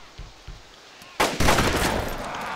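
Gunshots in the survival game DayZ Experimental near Stary Sobor: two faint distant pops, then a sharp loud shot followed by a second blast whose echo rings on and slowly decays.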